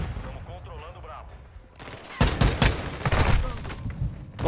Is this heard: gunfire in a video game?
yes